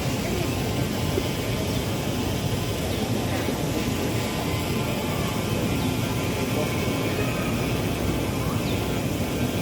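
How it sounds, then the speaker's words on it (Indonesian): A racing drone buzzes nearby at an outdoor government swearing-in ceremony, a loud constant whirring drone that holds steady throughout with faint crowd noise beneath. "Bang, ini drone balap ya? Drone balap ya?"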